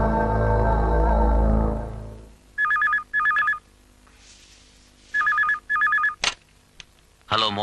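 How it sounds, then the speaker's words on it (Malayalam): A telephone rings indoors in two double bursts, each pair of bright electronic trills clear and close, following a fading low drone of music, with a few clicks afterward and no talk over the rings. "ചിത്ര, നീ എവിടുന്നാ വിളിക്കുന്നേ?"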